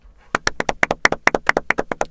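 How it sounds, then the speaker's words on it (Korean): A small group in a Korean talk-show studio claps briefly: roughly twenty sharp, distinct hand claps in a quick, slightly uneven rhythm, close and clear against near silence. "박수."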